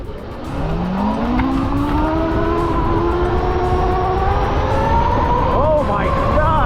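A car in race mode pulls away hard, its engine note climbing steadily in pitch as it accelerates close up, with a brief tire squeal near the end.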